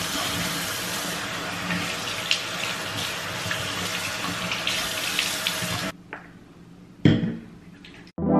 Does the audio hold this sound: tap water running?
yes